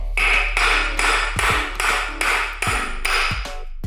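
A big hammer drives extended metal wheel lugs into a Ford Fiesta Mk6 drum brake between wood blocks, about eight or nine loud clanging strikes in a steady rhythm with a metallic ring, close and forceful.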